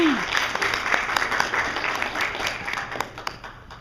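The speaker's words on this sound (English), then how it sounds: "That's right, you can clap for it." Wedding guests clap together after a best man's toast, a steady dense patter of many hands close by, with cheering voices mixed in and fading slightly toward the end.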